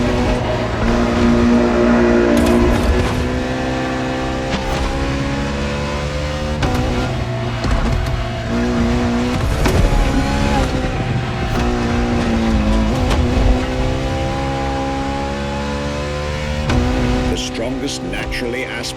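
Ferrari hybrid V12 supercar in The Crew Motorfest racing game, a loud engine roaring and revving through gear changes with occasional tire noise, heard under continuous talking.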